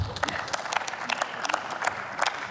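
Members of the German Bundestag applaud in the plenary chamber, a moderate round of distinct, somewhat sparse claps with audible individual hits, continuing steadily.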